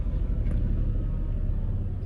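A steady low rumble fills a car's interior while it drives down the road on a road trip, continuous and even with no speech.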